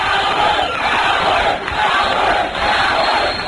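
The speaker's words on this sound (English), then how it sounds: "A lot of the people voting for us are cheering." A dense convention-hall crowd roars and cheers without a break, loud and close, with the massed voices blending into a continuous wall of sound.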